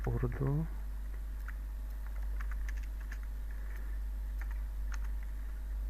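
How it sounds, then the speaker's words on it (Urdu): A computer keyboard being typed into a Google search box, heard as light scattered key clicks in a quiet room under a steady low hum, after a brief voice at the start. "یہاں میں لکھتا ہوں کیا اردو فونیٹک کی بورڈ، میں لکھتا ہوں"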